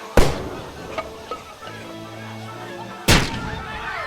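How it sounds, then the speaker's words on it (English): A concussion grenade detonates in a mortar hole during a staged radio drama: two sharp, loud blasts roughly three seconds apart, with scattered clatter and a low sustained hum between them. "And now the concussion grenade."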